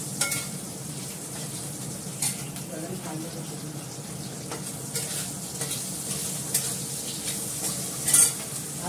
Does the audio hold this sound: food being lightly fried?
yes